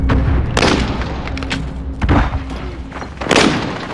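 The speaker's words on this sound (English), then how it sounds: "They're shooting at me." Gunfire and heavy booms in the video game Call of Duty: Modern Warfare, several loud, sharp bursts and thuds spaced irregularly over a few seconds, close and punchy.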